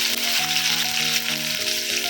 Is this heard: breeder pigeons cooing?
no